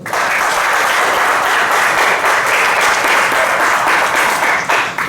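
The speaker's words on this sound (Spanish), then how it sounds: "Nos merecemos un aplauso." An audience applauds after a class presentation at a university, a loud, dense, steady round of clapping that fills the room for the whole stretch without pause.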